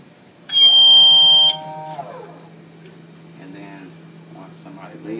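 A parking lot buzzer in an electrical construction student project sounds once as a loud, steady electronic tone lasting about a second, then stops, leaving a low hum and faint voices nearby.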